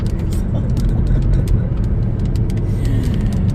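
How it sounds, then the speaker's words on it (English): Loud, steady road roar and low engine rumble from inside a car following a dump truck, continuous with scattered small clicks and rattles over the drone. "I have been behind this dump truck"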